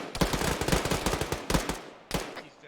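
Rapid bursts of automatic gunfire in the ArmA 3 military video game, several close, loud strings of shots with a short pause before a final burst.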